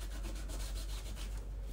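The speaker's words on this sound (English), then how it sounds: "the Lysol wipe just takes off all of that glitter" A Lysol wipe is rubbed back and forth over a glittery stencil transfer, producing soft rhythmic rubbing strokes, close and faint, with no voices.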